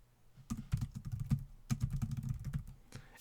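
Close, clicky typing on a computer keyboard while writing a Notion document, with two quick flurries of keystrokes and a short pause between them, no voices.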